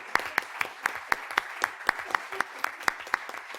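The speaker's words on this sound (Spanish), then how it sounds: "quisiera que le dediquemos un aplauso al decano porque se lo merece" Applause for the dean at the closing of an artificial intelligence conference comes as faint, evenly spaced claps at about four per second, sharp and distinct against a quiet room.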